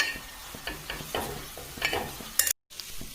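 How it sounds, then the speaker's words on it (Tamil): Sliced snake gourd sizzles softly in a pan, with a few scraping stirs breaking the quiet frying hiss. The sound cuts out briefly near the end. "புடலங்காய் வெந்துக்கிட்டு இருக்கு"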